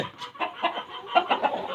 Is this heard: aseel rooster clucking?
yes